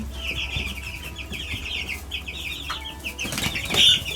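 Young Barred Rock chicks huddled under heat lamps chirp and cluck in a busy, continuous chorus, with a brief flutter of wings near the end.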